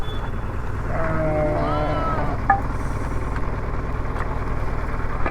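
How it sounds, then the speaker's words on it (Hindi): A large flock of roughly six hundred sheep bleats in wavering calls over the steady rumble of an idling engine, with a sharp click partway through. "600 भाई, 600 भेड़ भाई, 600।"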